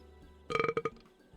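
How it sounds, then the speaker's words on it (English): Character in the Final Fantasy XIV video game burping once, a short, rattling belch heard up close and alone. "Burp."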